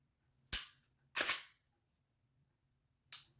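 Crisp clicks from a Polymer 80 pistol's trigger resetting, three sharp, isolated snaps spaced irregularly, close to the microphone with silence in between.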